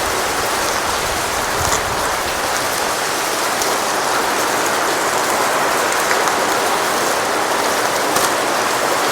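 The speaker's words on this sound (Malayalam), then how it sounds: "പുറത്ത് നല്ല മഴയാണ് കേട്ടാ." Heavy rain pours down steadily, a dense continuous hiss of drops with no voices, even and unbroken throughout.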